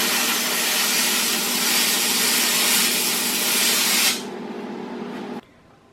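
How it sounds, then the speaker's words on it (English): Flat disc bodywork sander fitted with sandpaper, working on metal and wood for a reception desk, gives a loud steady broadband whir for about four seconds, then spins down and cuts off. "I'm using a sandpapered flat disc body work sander"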